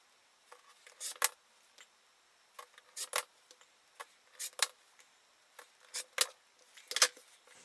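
Scissors snip through a fabric panel into 2-inch squares in a series of short, close, crisp cuts, arriving in small clusters with brief pauses between them.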